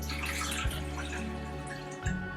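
Lemonade pours steadily into a container, a continuous splashing trickle with a couple of soft knocks, close and fairly loud.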